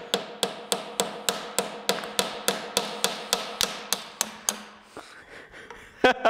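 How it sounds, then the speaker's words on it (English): Sharp, evenly spaced strikes of a chisel on frozen butter chilled to about -109°F ring out close and loud, some fifteen hard knocks in a steady rhythm, then a pause before a couple of final taps. "I think we're gonna have to chisel our way through."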